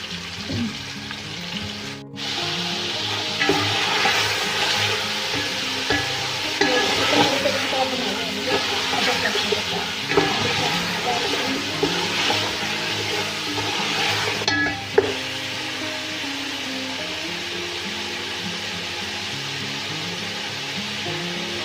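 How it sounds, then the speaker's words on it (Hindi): Ginger garlic paste hits hot oil for Sindhi biryani with a sudden loud sizzle that holds as a steady hiss and crackle, occasional stirring, and a sharp clatter near the end. "अब हम इसमें डालेंगे अदरक लहसुन का पेस्ट।"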